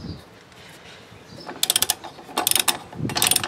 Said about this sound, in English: You're going to set your torque wrench to 20 to 30 foot-pounds, and then we're going to go and tighten up